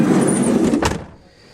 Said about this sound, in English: I'm going to close the door so we have a little privacy here.